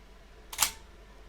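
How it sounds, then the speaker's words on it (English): A single sharp mechanical shutter click from a Konica Autoreflex T3 film SLR, close and crisp against near silence, with a faint second click at the very end. "I think you might want to hear the shutter on this one too."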